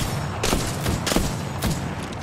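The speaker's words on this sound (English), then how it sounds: "I'm gonna snipe him right now." Gunshots in the video game Apex Legends during sniping, three heavy booming reports spaced about half a second apart over a dense, loud background of game noise.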